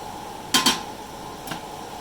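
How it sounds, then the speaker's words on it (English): A spatula knocks against a pan while Thai cashew chicken with its sauce is stirred: two quick metallic clinks close together, then a softer single clink, over a low steady kitchen hum. "We're just stirring to get the temperature of all the things we just added back up, and coat it in with the sauce."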